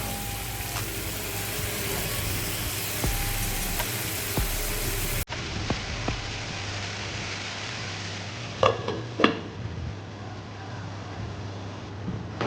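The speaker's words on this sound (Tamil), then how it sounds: "கொஞ்ச நேரம் சிக்கன் அதுலேயே வேகட்டும்" Chicken cooking in masala in a pan for a green chicken starter gives a steady close sizzle and hiss, with a sudden drop in level partway through and a few soft clinks toward the end.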